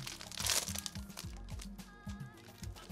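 Crinkly plastic wrapper of a Soft Cake Kirsche cherry snack being torn open by hand, without scissors: a rapid series of close, loud crackles and crunches, busiest at the start and then continuing in short bursts.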